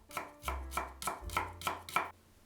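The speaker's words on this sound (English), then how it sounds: "Mince 50 grams of shallots" A knife chops shallots on a cutting board in about six quick, evenly spaced knocks, close and crisp, with no talking.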